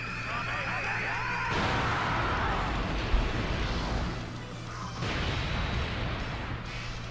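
Ultra Big Bang active skill of Omega Shenron in the Dokkan Battle video game, a dense roaring blast with a sharp surge in the middle and a rumbling tail, with someone talking over it.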